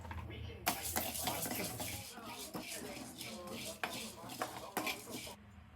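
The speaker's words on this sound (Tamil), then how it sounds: "கடாயில் கடலைப்பருப்பு அண்ட் உளுத்தம்பருப்பு சேர்த்து அதை நம்ம வறுத்துப்போம்." Chana dal and urad dal roast in a kadai with dry rattling, scraping spoon strokes and metallic clinks against the pan, close and moderately loud, with a little talk partly under it.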